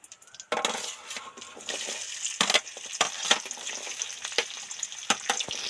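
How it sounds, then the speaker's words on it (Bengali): Onion deep frying in oil: a steady bright sizzle with repeated sharp crackles and pops scattered irregularly across the clip, close and moderately loud, with no talk. "পেঁয়াজটা একটু ডিপ ফ্রাই করে ভেজে নেব"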